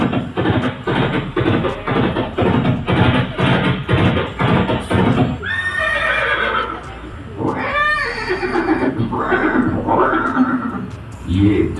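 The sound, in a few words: horse neighing in a museum scene of Chetak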